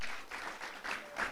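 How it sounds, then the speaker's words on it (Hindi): At a cricket tournament trophy ceremony, a crowd gives a brief, faint round of applause that pulses unevenly for just over a second. "जोरदार तालियां."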